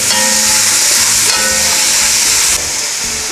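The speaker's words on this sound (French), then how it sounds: "je vais remuer avec les tomates pour pouvoir décrocher le dessous de la marmite" Tomatoes being stirred in a pot for a lobster tail curry, scraping the bottom: a loud, steady sizzle with scraping and stirring noise running throughout, alone with no voices.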